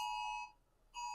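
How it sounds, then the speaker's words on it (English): An electronic alarm sounds in a room, a bright, steady ringing tone that cuts out for about half a second and then starts again, loud and close. "Sorry, we have an alarm going off here."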